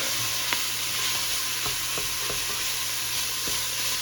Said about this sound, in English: Stir frequently until onions have become translucent, about 2 to 3 minutes